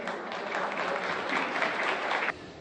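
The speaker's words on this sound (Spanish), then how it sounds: "no sin antes dar la bienvenida a nuestro alcalde Nelson de la Rosa y por supuesto, aplausos" Audience applause at a meeting in a provincial government hall, welcoming mayor Nelson de la Rosa: steady, dense clapping from a crowd for about two seconds, cutting off abruptly near the end.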